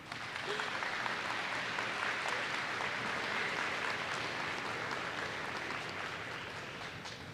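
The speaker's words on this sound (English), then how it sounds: "Let's please give them a round of applause." A school assembly audience applauds the band, a steady wash of clapping from a large crowd in a hall that holds evenly for several seconds before slowly easing off.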